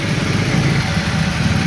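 A car engine idles with the air conditioning switched on, a steady low rumble with a slight uneven shake, close and continuous for a brief moment without any talk.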